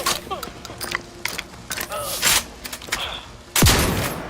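Gunfire in the video game Outer Worlds 2, scattered sharp shots and mechanical clicks over combat chatter and voices, ending in a loud close blast.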